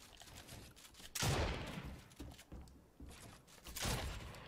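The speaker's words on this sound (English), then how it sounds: "Getting shot from behind, my boy." Gunshots ring out from behind in a Fortnite Chapter 3 solo arena match, a few sharp bursts of fire spaced a second or two apart, fairly faint and distant.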